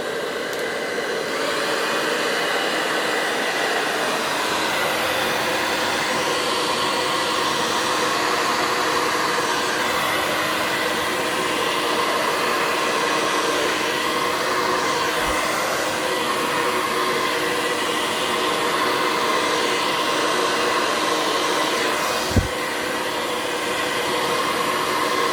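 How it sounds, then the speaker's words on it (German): A hair dryer blows steadily and loudly for the whole stretch, a constant close whoosh used to push small bubbles out of poured acrylic paint. "Nicht erschrecken, ich mache den Föhn an mit Laut."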